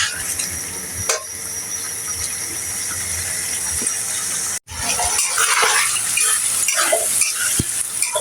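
Chicken curry sautéing in a pan, a steady close sizzle and hiss with scraping stirs, one brief break midway, then livelier frying crackle continuing alone.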